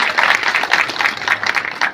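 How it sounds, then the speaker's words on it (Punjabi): A village audience at an International Women's Day event claps in a dense, even wash of applause that carries on steadily for the whole short span, with no voices standing out. "ਮੈਂ ਬੇਨਤੀ ਕਰਾਂਗਾ ਸਾਰੇ ਜੋਰ ਨਾਲ ਤਾੜੀਆਂ ਇੱਕ ਵਾਰੀ ਜ਼ਰੂਰ ਮਾਰਨ"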